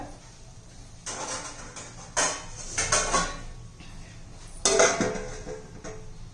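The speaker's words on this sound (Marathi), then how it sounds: "पातेल्यावर आपण आता झाकण ठेवूया" A metal lid is set onto a cooking pot on a home stove while making shengole, producing several clanking, scraping metallic contacts spaced a second or so apart.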